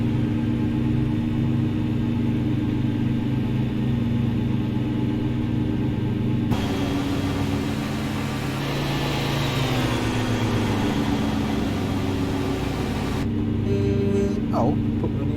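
A low, rumbling truck engine in American Truck Simulator drones and builds steadily, a heavy vehicle sound with a rising whine, shifting character partway through.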